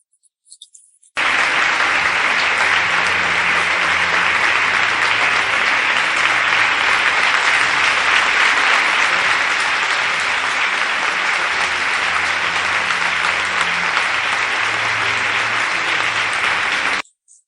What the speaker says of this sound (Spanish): ahí estaba la plana mayor del Partido Popular aplaudiendo a Mazón